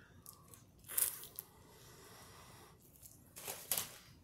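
Crunchy bites and soft chewing of fries dipped in ketchup, two louder bursts of munching close to the mic with quieter mouth sounds between.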